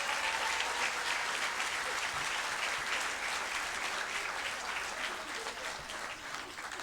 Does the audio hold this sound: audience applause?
yes